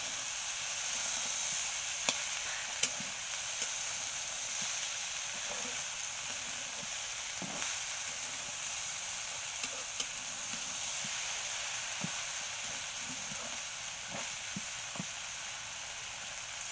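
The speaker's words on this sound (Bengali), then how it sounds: "আবারও নেড়ে চেড়ে নিচ্ছি। অনেক পিচ্ছিল এই ভেন্ডিগুলো," Okra stirred in a frying pan, a steady sizzle and hiss of frying throughout with occasional soft scraping clicks of the spoon, close and alone without talk.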